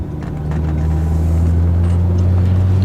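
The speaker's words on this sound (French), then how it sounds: "Petit rond-point et accélération en fin de rond-point." A car pulling out of a small roundabout and accelerating hard in second gear, its loud, steady, low engine drone holding close throughout with no talking.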